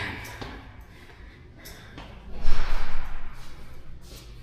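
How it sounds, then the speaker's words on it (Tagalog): Heavy breathing from someone climbing the stairs of a building still under construction while carrying a laptop, a few short breaths followed by a louder, longer rush of exhalation, close up, with no talking. "Bakit medyo hingal na tayo?"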